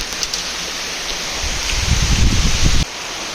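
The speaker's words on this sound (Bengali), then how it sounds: "আর বেশ সুন্দর বৃষ্টি হচ্ছে।" Steady rain falls outside a house, a dense broadband hiss that swells with heavier patter and rustling before cutting back to a softer wash; it is close and fairly loud, and no one speaks.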